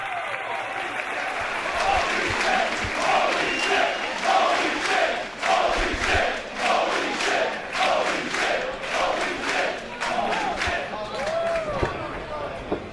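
A wrestling arena crowd on its feet, roaring and chanting in a steady rhythmic swell with clapping throughout, as a commentator talks excitedly over the noise.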